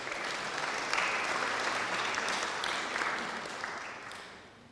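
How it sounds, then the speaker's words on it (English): Sustained applause from a conference audience during table discussions at an accounting profession event, a dense even wash of clapping at moderate distance that stays steady before gradually tapering off in the final second. "you must be tired of applauding"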